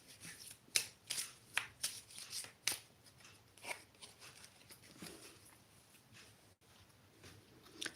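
Tarot cards are shuffled close by in a quick series of crisp riffling bursts and flicks, dense at first, then thinning to sparse soft taps in a quiet room.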